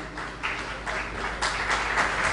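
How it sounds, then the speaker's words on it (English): An audience applauds a municipal commissioner at a smart city event, steady moderate clapping that swells slightly in bursts, somewhat distant and continuous throughout. "A huge round of applause for"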